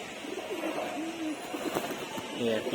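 Loft pigeons coo softly and repeatedly at close range, with a low, steady murmur of wings and movement around them and faint background chatter.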